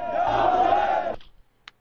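An angry crowd of Shia mourners in Pakistan shouting in unison, a loud sustained chant of many voices that cuts off abruptly after about a second.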